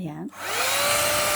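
A Whipl multistyler hair airstyler blows air like a blow dryer, a steady, close whooshing roar with a high whine that starts after a brief spoken word and a short dip, then continues evenly.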